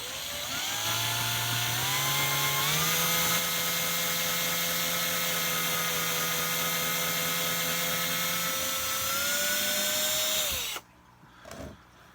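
A power drill bores through screw holes into a scrap piece of wood, motor whining steadily and loud for about ten seconds, pitch stepping up slightly as it runs, then cutting off abruptly with brief handling noise after.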